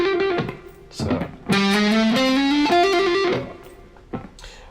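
A distorted electric guitar plays a rapid trill of hammer-ons and pull-offs, with sustained, bending notes ringing out between short plucked attacks at moderate loudness.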